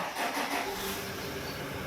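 A Yamaha Aerox 154 scooter engine catches and runs, a close mid-pitched motor rumble that stays steady with a slight uneven flutter, no voices over it.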